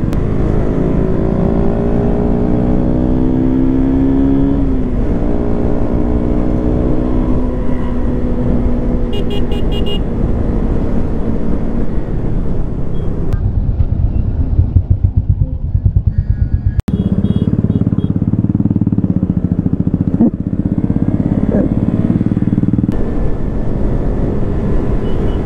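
Heavy Indian road traffic with cars, motorcycles and horns, a loud dense engine roar close by, with rising revs and short horn toots throughout, no speech.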